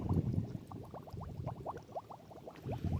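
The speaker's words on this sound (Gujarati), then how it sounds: "આ પાણીના ગુબ્બારા નીકળે જમીનમાંથી" Water bubbling up through waterlogged farm soil after unseasonal rain, a steady crackle of small popping bubbles and gurgles close by, continuous throughout with no talking.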